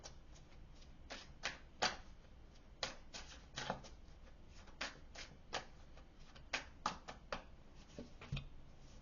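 Tarot cards are pulled and shuffled by hand in a quiet room, producing a series of short, crisp slaps and flicks at an irregular rhythm, close and fairly soft, with no voice.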